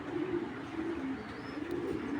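A pair of grizzle pigeons cooing softly in low, rolling calls, faint and continuous against a light background hiss.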